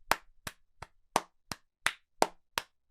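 A comedian imitates the aggressive clapping of a crowd applauding Kim Jong-un, eight sharp, hard hand claps in a steady, evenly spaced rhythm, close and isolated with silence between them.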